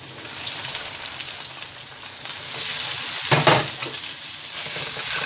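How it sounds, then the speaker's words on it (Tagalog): Minced pork hits a hot pan for pancit lomi and crackles into a steady, close sizzle that swells louder midway as it is stirred, with scraping and clattering on top of the frying. "Then, pwede na natin ilagay yung minced pork."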